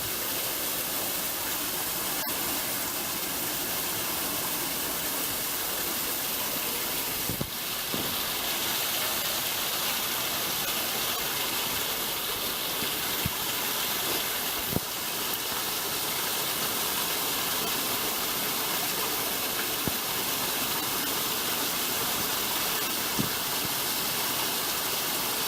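A waterfall pours into a creek in a rainy valley, a steady broadband rush of falling water heard close and continuous, with a few faint knocks and no talking.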